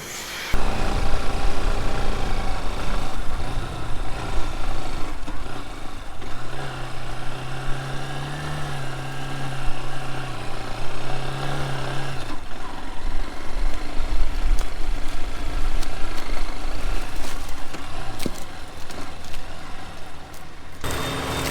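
A loud diesel tractor runs steadily close by pulling a Horsch seed drill sowing annual ryegrass, with machinery rattle and a low droning tone that shifts partway through, no voices.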